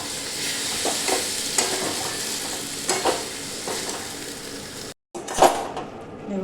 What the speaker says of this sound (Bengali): দেখুন মশলাটা ভাজা আমার পুরো হয়ে গেছে